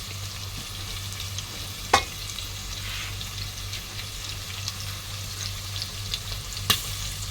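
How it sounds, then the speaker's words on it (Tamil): Onions sautéing in oil for a cauliflower chukka, a steady close sizzle that runs throughout, with a couple of sharp stirring knocks against the pan. "கண்ணாடி பதம் வர வரைக்கும் நல்லா இது வந்து வெங்காயம் நல்லா வதங்கணும்"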